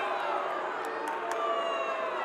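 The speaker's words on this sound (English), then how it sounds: "The crowd's asking for a stall" Arena crowd at a college wrestling championship final yelling and shouting in a dense, continuous roar, loud and steady throughout with a few sharp whistles or shrill cries rising above it; no clear speech.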